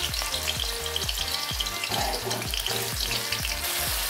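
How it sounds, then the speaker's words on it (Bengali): Small diced potatoes fry in oil in a wok, a loud busy sizzle with bubbling crackle and rhythmic scraping stirs throughout. "দেখো কড়াইতে তেল দিয়ে দিয়েছি, আর ছোট ছোট করে আলু কেটে নিয়েছি।"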